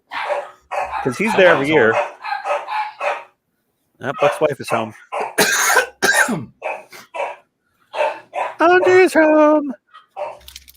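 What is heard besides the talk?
dogs barking behind a closed door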